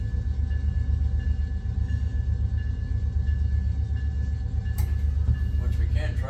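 Low, steady rumble of a freight train rolling on track as heard inside the locomotive cab on a Roseville to Colfax run, constant droning under faint cab noise, with a sudden burst of clatter near the end.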